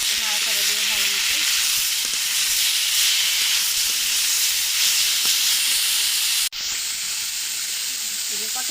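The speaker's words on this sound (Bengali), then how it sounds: "এই যে আমরা শাকটা যে সিদ্ধ করে রেখেছি, মটরের শাকটা, এই শাকটা এখন দিয়ে দিই। নাড়াচাড়া দিয়ে ভালো মতো।" Boiled pea greens hit a hot pan with onion and are stir-fried, giving a loud, dense, steady sizzle that dips abruptly near the end before resuming, close by with no speech.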